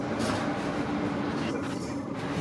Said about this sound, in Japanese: 2番線に電車が入る